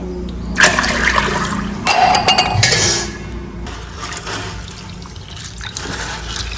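Water is poured over sago in a vessel to wash it in a Gujarati village kitchen, giving loud splashing bursts with metal clinks, then quieter trickling and dribbling.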